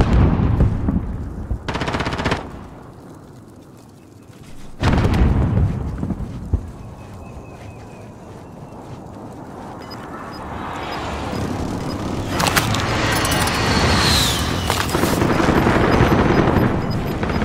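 Sniper fire and other shooting in a battle royale video game come as loud sharp cracks and bursts, with heavy blasts and rumbling game noise between them.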